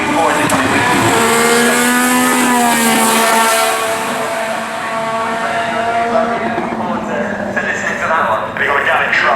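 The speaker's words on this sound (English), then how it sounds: "the man behind the wheel of that Renault then and this Renault today is René Arnoux" A vintage Renault racing car at the Goodwood Festival of Speed passes with a loud, rising and falling engine whine that swells, fades and pulls away, while a commentator talks over it.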